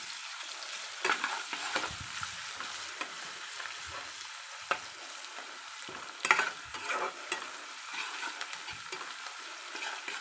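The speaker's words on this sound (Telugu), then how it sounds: "ఇప్పుడు కొద్దిగా పసుపు, కొద్దిగా అల్లం పేస్ట్ వేసుకుందాం, కలుపుకుందాం" Ginger paste and turmeric fry in a hot pan for a curry, with a steady soft sizzle and the scrape of a spoon stirring at intervals, close by and with no speech.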